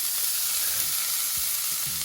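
Bacon fries in a pan during a weekend van trip in the West Lakes, with a loud, continuous sizzle and a few soft knocks of the pan or utensil. No one speaks.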